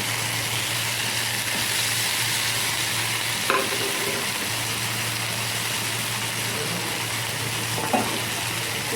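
Yogurt going into a pan of frying onion and chili masala, a constant dense sizzle with a low steady hum beneath and a couple of sharp utensil knocks, close up with no talking.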